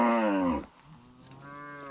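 A cow in a pasture gives a loud, close moo with a strong harmonic tone that breaks off, then a second, fainter moo rises toward the end.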